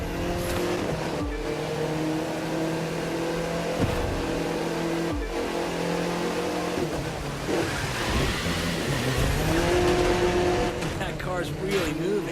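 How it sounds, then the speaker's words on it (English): An Audi TT races through downtown Los Angeles and its storm drains in The Crew 2, its engine droning steadily and rising and falling in pitch through gear changes with brief tire squeals, while someone talks over it. "In this particular race we're racing through downtown LA, including hitting those famous storm drains"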